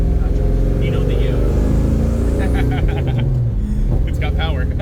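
The engine of a 1967 Chevrolet Chevelle SS rumbles loud and close, revving up and down, while people talk over it.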